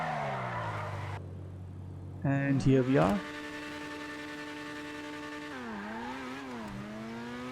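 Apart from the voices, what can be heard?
Grotti Furia supercar driving, from GTA video game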